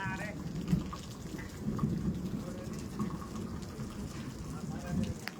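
Rain falls steadily in Halvad, Gujarat, with low rolls of thunder rumbling underneath, and faint voices talking in the background.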